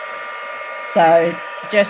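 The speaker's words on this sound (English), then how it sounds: "So I've got my heat gun and I'm going to heat it on number 2." A heat gun set to level 2 melts embossing powder on a handmade card. Its steady, close blowing whir runs the whole time while a voice speaks briefly over it.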